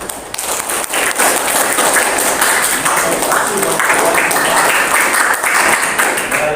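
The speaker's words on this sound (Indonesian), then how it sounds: "Tepuk tangan buat kalian semua di sini" Students in a school computer lab clap together in sustained, fairly loud applause that fills the whole stretch without a break.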